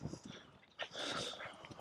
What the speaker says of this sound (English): Border Terriers love a bark at dogs, don't they?